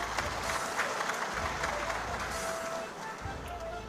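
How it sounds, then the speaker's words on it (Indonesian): A crowd claps and cheers continuously, a dense wash of applause that stays loud throughout. "tepuk tangan meneh"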